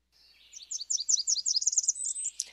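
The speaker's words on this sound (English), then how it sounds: "we'll play our Blackburnian. This is kind of a hearing test species." Blackburnian warbler song, a thin, very high series of rapid buzzy notes climbing steadily in pitch, clear and fairly faint, with no other sound behind it.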